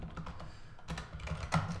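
Typing on a computer keyboard while entering a task: a quick run of close, crisp key clicks with uneven rhythm and a few louder taps, with no voice over it.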